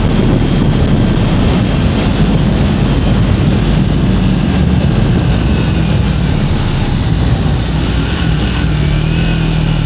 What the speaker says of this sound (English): Today is a windy day, it's quite overcast and windy day